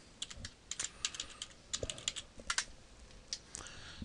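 Someone types a password on a computer keyboard, producing quiet, close, irregular key clicks in quick bursts, with no talk.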